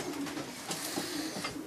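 Pigeons coo softly in a pigeon loft at a Janssen racing pigeon breeder's in Germany, low repeated murmurs forming a steady bed of bird calls without speech.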